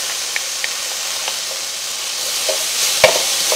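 Garlic sizzling with tomato paste in a frying pan, a steady close hiss with a few faint clicks and pops of stirring, no voices.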